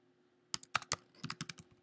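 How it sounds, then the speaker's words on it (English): Code is typed on a computer keyboard in a quiet room, about a dozen crisp, close key clicks in an irregular burst after a short pause, with no voices. "I will simply begin to type"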